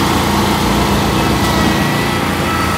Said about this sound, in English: The lawnmower's here and a truck is driving by.